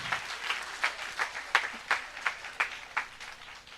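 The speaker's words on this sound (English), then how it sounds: "I think Vishnu needs a big round of applause." Applause for a performer at an environmental education event: a small audience claps in a series of separate bursts that rise and fade, fairly faint and without speech.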